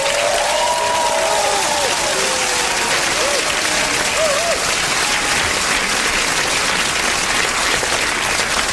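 Loud, sustained applause from a large audience fills the whole stretch, steady clapping with a few cheers and whistles rising above it.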